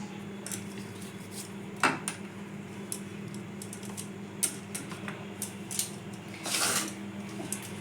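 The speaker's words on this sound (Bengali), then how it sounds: "চামচ দিয়ে দিচ্ছি" A spoon clinks against a dish holding sweet corn chaat, a scattering of light taps and scrapes, quiet and close over a soft background hum.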